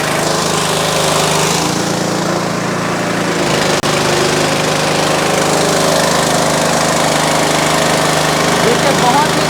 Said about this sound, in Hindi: देखिए इंजन फाइनली चालू हो गया है।